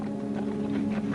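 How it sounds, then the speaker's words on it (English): Soft, steady hoof clopping from a horse at a distance, muffled under a low constant hum, with no voices. "The outlaw's horse."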